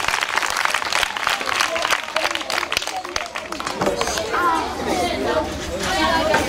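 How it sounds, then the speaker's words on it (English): Children and adults clapping for a boy at a back-to-school supply giveaway for poor children, a loud, dense burst of applause mixed with chatter and voices of kids nearby. "A sound clap for him."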